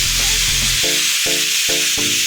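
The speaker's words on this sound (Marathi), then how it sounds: "तर पहिली शिट्टी सुद्धा आली आहे कुकरला" Pressure cooker on the stove whistling while dal and rice cook for dal bhat bhujia, a loud, steady hiss of escaping steam lasting the full two seconds, with no talking.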